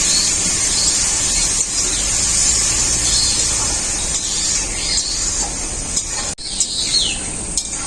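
Fried spice masala with Kashmiri chili powder and a splash of water hissing in a pan while cooking pomfret fish, a steady bright sizzle that fades slightly, with a few clinks and a short stirring scrape near the end.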